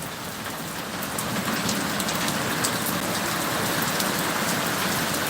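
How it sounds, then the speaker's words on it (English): Steady rain falling outdoors beside a stone wall, a dense even hiss with scattered individual drops pattering on surfaces, continuous and fairly loud with no voices. "Look at the rain falling."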